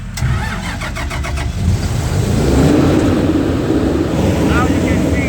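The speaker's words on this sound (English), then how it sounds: "Okay, now we're gonna run the generator." A generator engine cranks over and catches, then settles into a loud, steady mid-pitched running drone that fills the rest of the moment.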